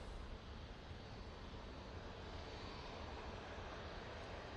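A faint, distant, even roar of an SAS Airbus A320neo at Manchester Airport, a soft, steady wash of engine and wind noise with no voices.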